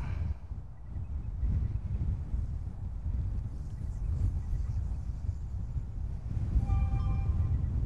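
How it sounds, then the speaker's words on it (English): Wind blows outdoors at an RC plane flying field, a steady low rumble and buffeting against the microphone that lasts about eight seconds, with a faint high whine near the end. "the wind, it's blowing"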